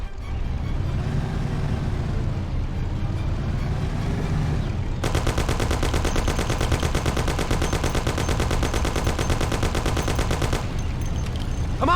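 Rapid Thompson submachine gun bursts in the 2002 video game Mafia, a long dense stream of loud automatic fire in the second half, following a stretch of engine rumble and mixed game noise.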